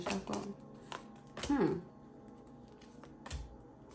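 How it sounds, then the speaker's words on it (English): Tarot cards being shuffled by hand at close range: several quick papery riffling bursts, the loudest near the middle, with a voice briefly present. "One more shuffle."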